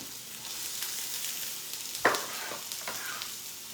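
Onions fry gently in oil for a savory bread filling, a soft, steady sizzle close by, broken by a sharp scrape or clack of the utensil as they are stirred and spread around the pan.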